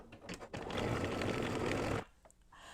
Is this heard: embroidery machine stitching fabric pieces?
yes